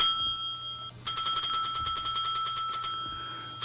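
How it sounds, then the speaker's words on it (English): A small hand bell rings, first with a steady sustained tone and then in a rapid run of bright, repeated jingling strikes that carries on for a few seconds, loud and close. "got my little bell"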